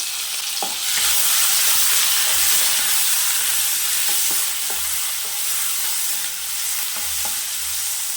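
Onions sautéing in a pan for a potato kurma, with a steady broad sizzle and periodic soft scrapes of stirring, close and fairly loud, with no talk.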